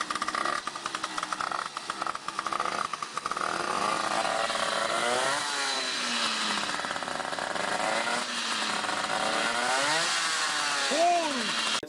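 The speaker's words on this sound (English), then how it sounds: "I'll put a clip here of the bike revving up and shredding its reeds" Yamaha two-stroke dirt bike engine revving hard at high RPM, a raspy, buzzing whine that rises and falls in repeated sweeping revs, loud and close throughout.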